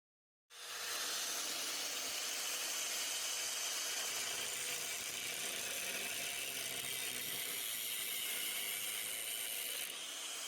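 A Sawzall reciprocating saw cuts through a steel body mount bracket on a vehicle, a harsh, continuous buzzing rasp that starts abruptly and runs steadily at close range for the whole stretch.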